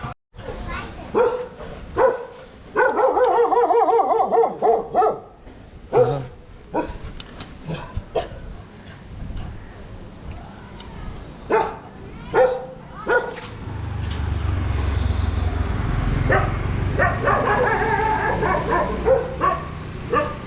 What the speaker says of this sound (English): These dogs of Goa.